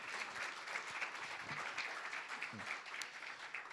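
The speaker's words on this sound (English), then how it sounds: "let's give him a round of applause first of all" Quiet, steady applause from a seated conference audience after a paper session talk, a soft even patter of clapping heard from a distance with no one speaking over it.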